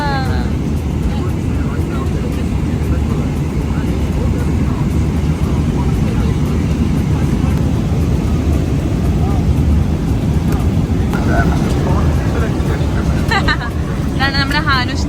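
Steady, loud cabin roar of an airliner in flight on a twelve-hour journey, constant broadband rumble throughout, with faint voices and brief high chirps near the end.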